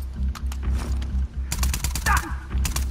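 Gunfire in The Last of Us Part 2, a burst of sharp, loud shots clustered around the middle of the stretch, mixed with game effects and heavy low rumble.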